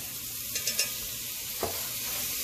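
Garlic hitting hot oil in a pan, a bright sizzle with a few quick stirring scrapes, close and steady throughout.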